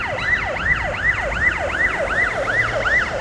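A fire department rescue vehicle's wailing siren cycles rapidly up and down as it approaches a car-and-motorcycle crash scene, loud and continuous over faint road noise.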